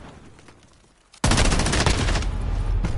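Dense, loud gunfire erupts suddenly in a shooter video game after about a second of quieter background, continuing as sustained rapid bursts to the end.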